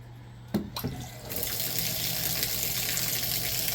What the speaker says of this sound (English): That's faster than my pump I've got at home, my submersible sump pump.